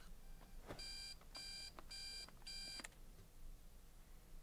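An alarm clock muffled under a pillow in a My Little Pony Equestria Girls film, beeping in four quick repeated bursts, fairly faint against a hissy background before stopping.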